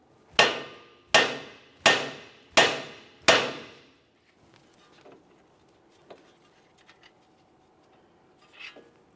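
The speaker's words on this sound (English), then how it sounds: "I'm just going to carefully use my hammer, cause some vibration." A hammer strikes a 2014-2018 Mazda 3 steering knuckle to free the tie rod end. Five sharp, evenly spaced metallic blows, then quiet with faint clinks.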